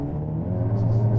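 A Honda Civic Type R accelerates from a roll in second gear as a steady low engine drone builds slightly in loudness, heard from inside the car over a short stretch.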